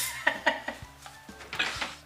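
Dry rice is tossed into a cooking pan, giving a few quick, light clattering rattles and taps against the metal, close by and fairly soft.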